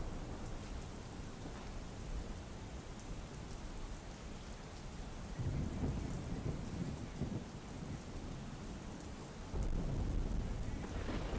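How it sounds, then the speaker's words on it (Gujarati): Heavy monsoon rain pours down in Ahmedabad amid strong wind, a dense continuous hiss of rain with low rolling thunder swelling in twice toward the middle and end, no voices. "ભારે પવન સાથે અહીં વરસાદનું આગમન થયું છે"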